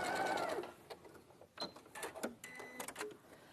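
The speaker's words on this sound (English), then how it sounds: "it's just top stitching around the curve only" A sewing machine top stitches around a curved edge about a centimetre from the fold, a short burst of whirring at the start, then quiet clicks and handling noises.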